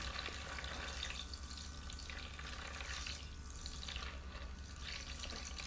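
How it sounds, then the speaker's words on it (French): Electric makeup brush cleaning device whirring in a basin of water, giving a steady churning and splashing wash that runs the whole time at low level. "J'appuie le petit bouton pendant 10 secondes, pardon."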